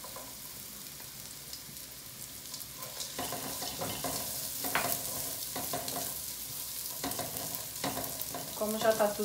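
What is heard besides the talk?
bacon added to sautéed garlic, frying and stirred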